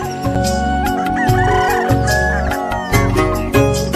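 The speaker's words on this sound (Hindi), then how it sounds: "जहाँ सुबह सुबह चहचहाती चिड़ियों की सुरीली तान के साथ मुर्गा बांध लगा रहा हो" A rooster crows in a village over steady background music, its call rising and falling once across the few seconds.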